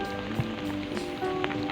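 Rain falling steadily on an outdoor breeding area, a dense continuous patter with occasional louder drops, heard alone at moderate level.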